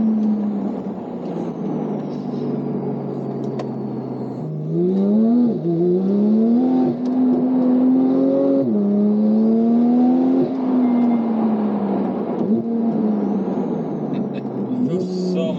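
Tuned 800+ BHP Porsche 991.2 with an ES800 kit and limited-slip differential pulling hard, its engine note climbing through gears with rising and falling pitch sweeps, loud and close throughout.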